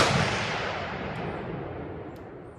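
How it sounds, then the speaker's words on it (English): A handgun loaded with six grains of Red Dot powder fires at an outdoor range, one loud sharp report ringing out and fading into a long decaying echo. "There's the first 5 shots."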